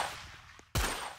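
A single sharp gunshot bursts out in a shooter video game, a loud close blast with a low thump that decays over half a second after a brief quieter lead-in.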